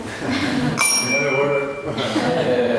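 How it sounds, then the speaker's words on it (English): A bell rings out at a formal university-style debate on policing, sounding a clear high tone with sustained overtones that cuts through the hall while a speaker keeps talking and faint chuckles rise from the audience. "The bell rings, you can't speak."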